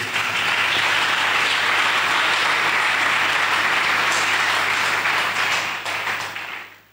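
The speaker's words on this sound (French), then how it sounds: "Est-ce qu'on peut acclamer le Seigneur?" A church congregation breaks into loud, sustained applause. The dense clapping holds steady for several seconds, then thins and fades out at the end.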